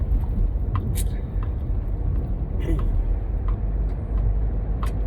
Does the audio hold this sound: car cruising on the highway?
yes